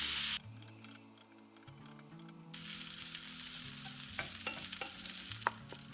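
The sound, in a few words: stir-frying beef and egg fried rice with soy sauce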